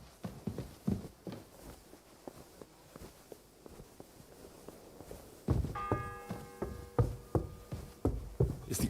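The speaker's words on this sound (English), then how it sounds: "It's the 8th bell." In Kingdom Come: Deliverance II, a bell strikes the hour, its ringing tones sounding for a few seconds midway through. Footsteps and knocks in the town come and go beneath it.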